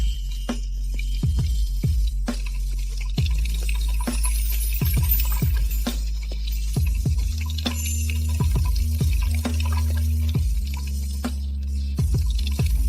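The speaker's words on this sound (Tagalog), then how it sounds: "Sobrang dami ng tubig mo." Tap water runs steadily while peeled vegetables are washed in a kitchen sink, with repeated hollow clunks and splashes of produce and dishes knocking in the basin.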